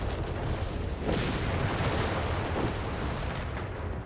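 Mortar fire in Company of Heroes 3 during a British Forces 4v4 match: a steady, rumbling wash of distant booms and impacts that stays moderately quiet throughout, with no talk.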